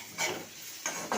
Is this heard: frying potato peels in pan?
yes